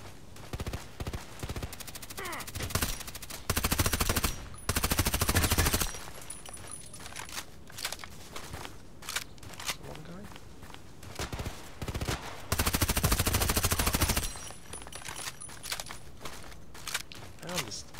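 Bursts of rapid automatic gunfire from a sniper contract mission in a shooter video game, with loud sustained volleys and scattered single shots over steady game ambience.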